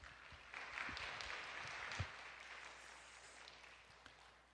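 Church congregation at a Tuesday worship service applauding warmly to welcome the pastor, a dense wash of many hands clapping together, fairly loud and steady, tapering off at the end.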